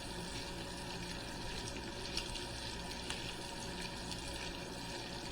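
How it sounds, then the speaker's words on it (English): Sausages and bacon cooking together in a frying pan, a steady, even sizzle of hissing fat that runs continuously with a few faint pops and no talking. "Just let these sausages and the bacon cook up together."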